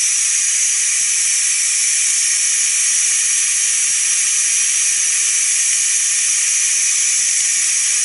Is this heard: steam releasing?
yes